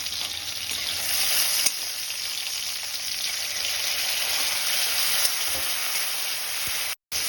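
Spice paste for a soybean and Malabar spinach dish frying in a pan, a steady, dense, close sizzle that holds evenly throughout with a faint stir or two, with no talk.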